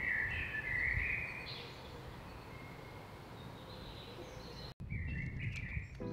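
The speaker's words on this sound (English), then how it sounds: "you can hear the birds and you can actually hear the wind" Birds chirp outdoors near a studio outside Berlin, a few bright tweets and calls over a steady wind-like hiss, fairly close and clear, with a short break near the end before more chirping.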